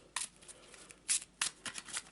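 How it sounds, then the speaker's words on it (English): An Eldritch Horror encounter card deck being shuffled, giving several quiet bursts of riffling card flutter in quick succession with short pauses between, no talking. "So let's get the deck from up here. And shuffle as always."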